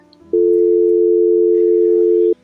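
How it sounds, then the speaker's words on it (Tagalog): A cellphone call's tone sounds as one steady electronic beep lasting about two seconds, clear and loud over quiet background. "Inilabas niya ang kanyang cellphone at tumawag sa isang numero."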